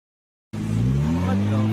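Car engine heard in a played video clip, starting abruptly after a short silence with a loud rising rev, its harmonic tones climbing steadily as the motor accelerates.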